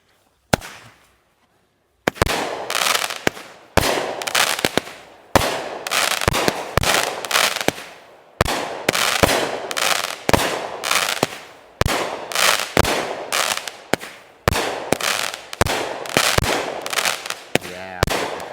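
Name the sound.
Magnificent Festival 25-shot backyard firework cake going off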